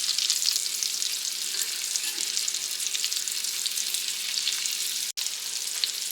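Shrimp frying in butter and bacon grease give a loud, continuous crackling sizzle up close, with a brief sharp gap as the pieces are flipped near the end.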